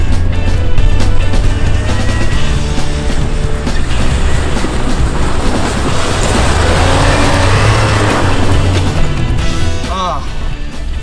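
A cheap used Jeep Wrangler's engine roars under throttle while driving with the back end sliding, a loud, rough, continuous rumble with wind and road noise and people talking over it.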